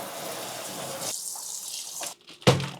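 Tap water runs steadily into a sink while raw chicken is rinsed, a broad hiss that drops away before a short clatter near the end; no talking.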